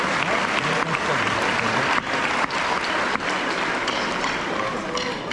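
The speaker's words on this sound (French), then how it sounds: "On vous applaudit s'il vous plaît." A festival audience claps steadily for several seconds at the opening of the 19th ACCB Festival, a dense, even wash of applause with no voices heard over it.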